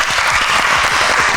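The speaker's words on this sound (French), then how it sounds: "On peut applaudir." An audience at a game show applauds, a dense, loud burst of clapping that runs continuously for the whole short moment.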